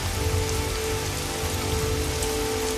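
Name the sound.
rain falling on leaves and soil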